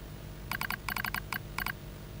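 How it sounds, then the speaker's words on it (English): Quick bursts of clicky keystrokes on a computer keyboard, close and fairly quiet, in short irregular runs. "Oh, you can hear the typing."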